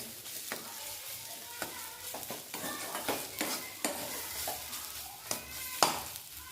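Bottle gourd leaves sizzling in a hot pan, with a spatula scraping and tapping the pan at irregular intervals; no talking.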